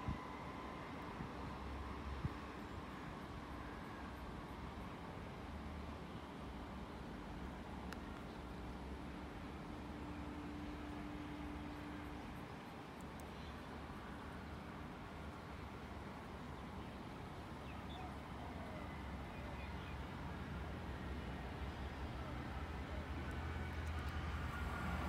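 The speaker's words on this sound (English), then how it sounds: "Arriving into platform number 2, we have a Tallara service." A Sydney Trains Tallara passenger service pulls into the platform at Thornton Station with a steady, continuous rumble that builds slightly louder toward the end.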